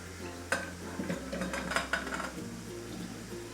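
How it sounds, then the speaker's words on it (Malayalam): Chopped potatoes tipped into a pot on the stove for potato curry, with scraping and clattering of pieces against the metal in a few bursts over a low steady background hum. "ഈ എടുത്ത് വെച്ചിരിക്കുന്ന പൊട്ടറ്റോ ഇതിലേക്ക് ഇട്ട് കൊടുക്കാം"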